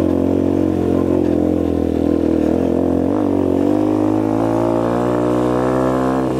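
A Fratelli Xe 125 motorcycle engine labors uphill on a rough dirt trail, its pitch slowly rising and straining in a loud, continuous close-up drone.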